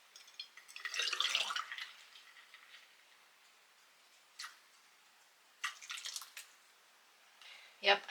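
Water drips and splashes while plant cuttings are watered in rustic barnwood propagation holders, with a soft wash of spray followed by scattered, separate splashes and drips at a close, fairly quiet level.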